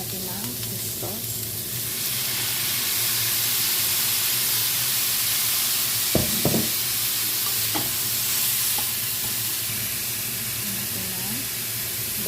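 Steady sizzling and stirring as fish sauce goes into pancit canton stir-frying in a hot pan, a continuous loud hiss with a few clanks of the utensil against the pan.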